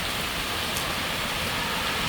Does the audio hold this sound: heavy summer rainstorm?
yes